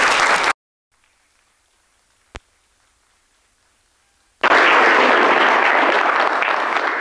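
Audience applause welcomes a lecturer at a talk on Bonaventure, Franciscan scholar and saint. A short burst of clapping at the start breaks off, and after a quiet gap a loud, full round of applause swells and carries on to the end.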